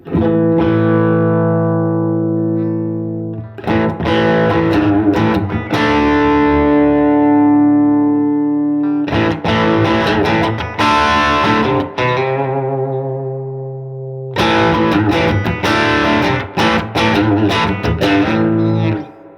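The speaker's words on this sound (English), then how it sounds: "It's like a distortion pedal, but you never know." Distorted electric guitar chords through an overdrive/distortion pedal ring out in three long strums, each sustaining and fading, loud and gritty with a buzzy edge.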